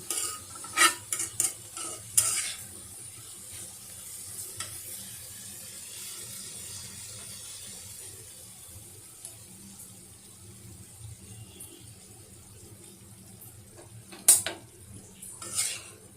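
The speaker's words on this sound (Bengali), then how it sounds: "সাদা ডাটা পটল কাঁঠালের বিচি আলু দিয়ে আমি এখানে ডাঁটার তরকারি রান্না করতেছি" Vegetable curry of white stems, pointed gourd, jackfruit seeds and potato being stirred in a pot, with soft sizzling under intermittent scraping and clanks of a utensil against the pan, including a few sharper knocks; no talking.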